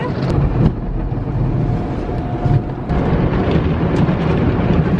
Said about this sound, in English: I'm so excited to get my car washed.